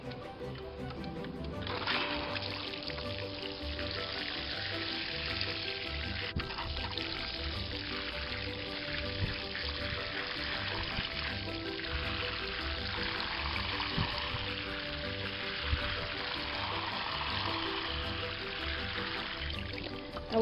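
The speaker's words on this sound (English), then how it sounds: "All right, let's water our potatoes." Water pouring steadily from a hose or can onto freshly mounded dirt in a potato garden bed, a continuous trickling stream lasting throughout with no talk.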